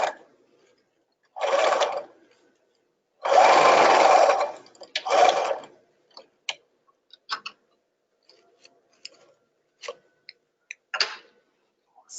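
A sewing machine stitches a tutu in several loud, whirring bursts of different lengths, separated by silence and followed by scattered small ticks and clicks as the fabric is handled.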